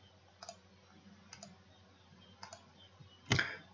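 Mouse clicks on sticker faces in Cube Explorer software: three soft, evenly spaced taps, then one sharper, louder click, all close and dry over a faint hum.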